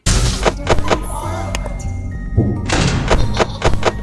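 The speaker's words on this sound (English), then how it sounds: "The ugly baby will play a vent noise." In a FNAF video game, the ugly baby makes a vent noise, a series of loud hollow metallic thunks and bangs that clatter irregularly for several seconds.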